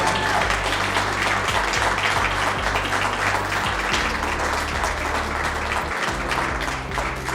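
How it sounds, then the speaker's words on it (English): An audience applauding steadily and loudly throughout, a dense wash of clapping at an industry chapter event, with faint murmurs mixed in. "you can give her a round of applause"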